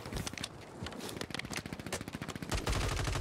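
Rapid automatic gunfire in Warzone 3 with an AMR9, dense bursts of shots crackling continuously close up, with a heavier, louder volley toward the end.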